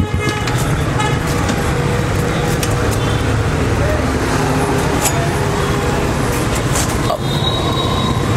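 A Yamaha R15 V3 motorcycle with a full-system exhaust and no dB killer runs loud and close in a continuous raspy roar, with a voice faintly audible beneath it.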